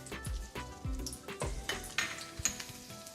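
Mustard seeds sizzling and popping in hot ghee, a close, steady crackle punctuated by sharp pops and light stirring knocks against the pan.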